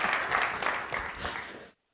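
A crowd applauding steadily for under two seconds before cutting off abruptly into silence.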